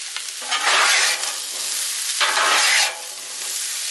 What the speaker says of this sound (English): I'm going to go ahead and throw the onions in